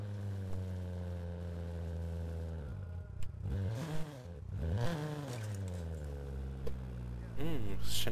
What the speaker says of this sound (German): Gehst du weg mit deinem dreckigen Motorrad?